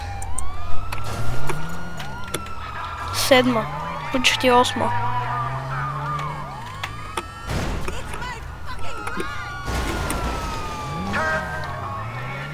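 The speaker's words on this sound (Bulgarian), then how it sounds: "Аз яхнах полицейска кола." Police car sirens in the GTA 5 Online video game wail and rise and fall steadily throughout, loud and close, mixed with engine noise, crashes and several bursts of game sound, while people talk over them.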